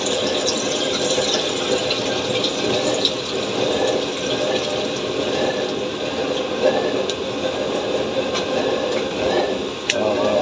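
Water pours and splashes into a metal cauldron (kawa) sitting on a blower-fed fire setup, a steady close filling rush with small clanks and knocks scattered through it.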